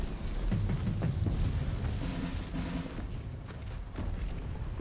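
Heavy cannon blasts and booming gunfire in the Sniper Elite 5 video game, a dense, loud barrage of low rumbling shots with no talk.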